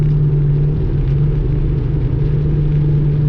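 A Ford Mustang engine holding a steady, loud, low droning rumble at about 3,000 RPM in third gear at around 55 mph after a downshift, heard from inside the car with no talking.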